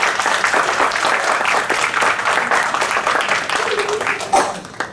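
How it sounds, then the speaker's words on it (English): An audience of parents applauds at a school orientation for class 4 and 5 teachers and children, steady dense clapping filling the room throughout, with some voices mixed in near the end. "Let's give them a big round of applause."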